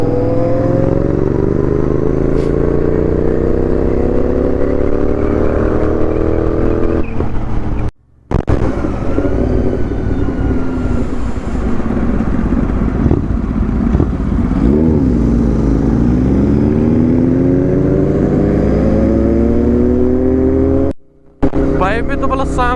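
Sport motorcycles on a group ride (Kawasaki ZX-10R, BMW S1000RR, Kawasaki Z900, Royal Enfield GT650), loud close engines with repeated rising and falling revs and wind noise, two brief gaps in the sound.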